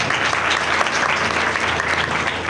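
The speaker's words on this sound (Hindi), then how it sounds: "अपने लिए भी तालियां बजाएं।" Loud, continuous clapping from a church congregation at a Christmas service as they applaud themselves, a thick, even wash of many hands with no pauses.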